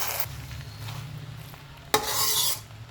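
Noodles stirred in a pan for a veg noodle dish, with scraping and clinking of the utensil against the pan over a faint sizzle, then a louder burst of stirring noise toward the end.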